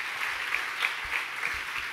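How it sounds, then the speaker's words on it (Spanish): Church congregation applause during a sermon, a soft, even rustle of clapping hands at moderate distance with a few faint thumps underneath, no voices over it. "Démosle un fuerte aplauso al Señor."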